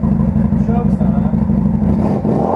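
Motorcycle engine idling with the choke on, a close, steady low putter with slight unevenness throughout, under a voice talking.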